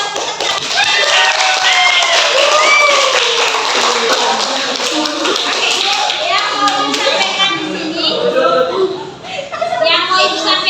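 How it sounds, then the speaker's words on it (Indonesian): A classroom audience of students claps for presenters, scattered light clapping running under a lot of overlapping children's chatter and voices. "Tepuk tangan dulu buat peserta."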